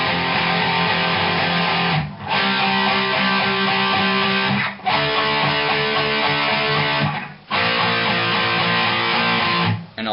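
Electric guitar strumming a power chord progression, eight steady strokes per chord, with brief gaps at each chord change; loud, dense and continuous, no talking.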